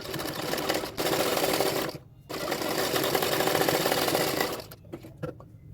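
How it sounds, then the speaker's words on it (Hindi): A sewing machine stitching the belt of a blouse, running in steady rapid bursts of close, loud stitching separated by short pauses, with no voices over it. "इसी तरह से किनारे किनारे पे छोटा छोटा इस तरह से फोल्ड करते जाऊंगी और एक एक सिलाई डालते जाऊंगी"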